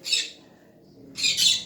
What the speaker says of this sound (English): Please excuse my birds.